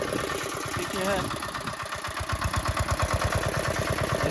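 A newly bought tractor's engine starts rough, then settles into a steady, close, loud chugging idle with a regular beat. A voice is heard briefly near the start.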